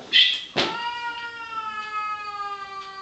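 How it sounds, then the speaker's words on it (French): A cat meows loudly in a wailing, crying-baby tone: a short call, then a long drawn-out cry that slowly tapers off, close and alone. "Ce n'est pas un bébé qui pleure, hein, c'est le chat de ma femme."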